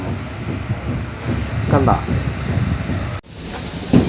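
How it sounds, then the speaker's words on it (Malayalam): A steady rail rumble and station din fill the platform at Chennai Central railway station, continuous and fairly loud, with a voice speaking briefly near the end. "ചെന്നൈ സെൻട്രൽ റെയിൽവേ സ്റ്റേഷനിൽ ഇറങ്ങിയിരിക്കുകയാണ്"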